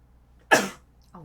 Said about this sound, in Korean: 기침이 나서 죄송합니다.